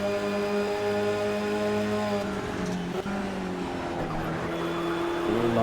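A Renault Clio race car in Project CARS, its engine droning in steady layered tones while sliding through a corner, pitch wavering slightly with a faint scrubbing edge, continuous and fairly close throughout.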